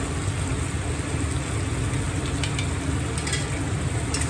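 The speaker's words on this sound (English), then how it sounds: "we're gonna give it a little stir. You want to get the meat coated." Beef for boeuf bourguignon sizzles loudly and continuously in a pot while being stirred to coat, a dense close frying hiss with faint scraping and no talk.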